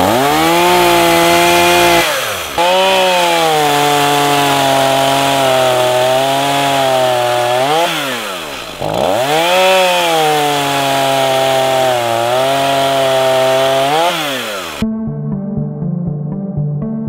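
A STIHL MS 162 chainsaw runs loud and close for about fifteen seconds, its engine pitch rising and dipping as it bites into wood, then cuts abruptly.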